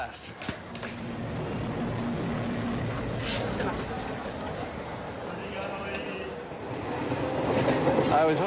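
Crowded third-class train carriage travelling in India, a steady rumble of the moving rail car with rhythmic wheel clatter and occasional squeals, voices of passengers chattering throughout and growing louder toward the end.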